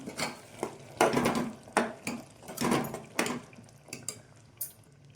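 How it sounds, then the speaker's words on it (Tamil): A spoon scrapes and stirs ground spice paste into black chickpea curry in a pot, producing a series of close, rhythmic clattering strokes against the metal with wet sloshing between them. "இப்போது இதை ஒரு கிண்டு கிண்டி வைக்கலாம்"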